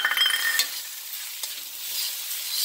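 Beef fried rice sizzling loudly in a hot pan as scallions are tossed and stirred in, a bright continuous hiss with scraping stir strokes early on, no voices.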